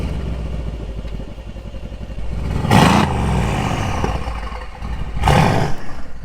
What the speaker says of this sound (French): Ce que je te propose maintenant, c'est qu'on démarre ce monstre, tu vas voir la sonorité est folle